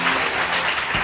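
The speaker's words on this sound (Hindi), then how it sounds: "दानिया के लिए बहुत सारी तालियां जी" A studio audience claps for a young guest named Dania, a dense, steady burst of applause lasting about a second, fairly loud and close.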